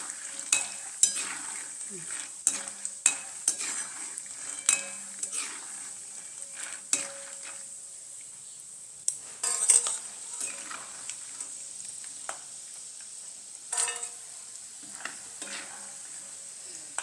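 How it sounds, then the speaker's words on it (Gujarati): Oil sizzles steadily with a crackling hiss as peanuts fry, punctuated by sharp clinks and scrapes of a spoon stirring against the pan. "ગરમ છે ને તે ગરમ તેલમાં શિંગદાણા છણાય તળાય જાય"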